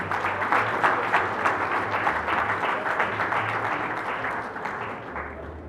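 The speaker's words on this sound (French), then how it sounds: "je demanderai maintenant que vous puissiez aussi vous applaudir" A room full of people applauding, brisk and steady clapping that gradually thins out toward the end.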